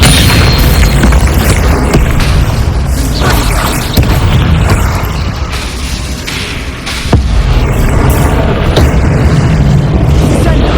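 Repeated Bombarda spell explosions in Hogwarts Legacy boom loudly and close, with bursting pops and crashes layered into dense, continuous battle noise that dips briefly midway before surging again.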